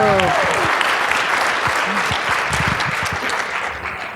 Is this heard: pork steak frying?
no